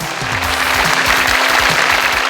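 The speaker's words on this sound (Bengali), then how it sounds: "তার জন্য করতালি" A studio audience on a music show applauds the winning singer, a dense, loud wall of steady clapping sustained throughout with no talk.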